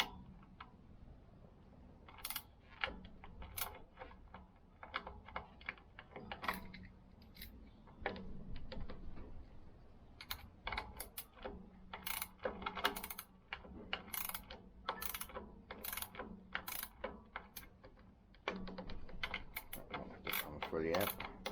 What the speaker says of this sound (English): get this kickstart off, which is a 10mm socket.